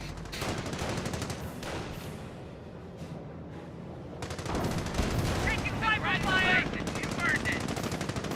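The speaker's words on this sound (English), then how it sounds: "Machine gun placement is alive." Machine gun fire in Company of Heroes, sustained rattling bursts mixed with gunfire and distant explosions throughout a busy battlefield, growing louder and denser in the second half, with a voice occasionally heard under the din.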